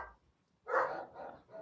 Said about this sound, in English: Dogs have started.